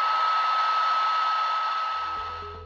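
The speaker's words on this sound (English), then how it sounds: "Pure antimatter can be contained by strong electrical and magnetic fields in a penning trap, which sounds like this." A steady high electronic hum and whirring hiss rises from a Penning trap holding antimatter at CERN, a sustained tonal drone heard alone for nearly three seconds, fading slightly at the end as a low pulsing tone enters.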